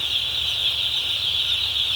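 A flock of chickens newly delivered to a poultry farm early in the morning fills the air with a loud, dense, unbroken high-pitched chorus of calls, close by and steady, with no talking.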